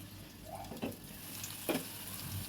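Onions frying in a covered pan on a stove, a soft steady sizzle throughout with a couple of brief scrapes or knocks, close and quiet, no talking.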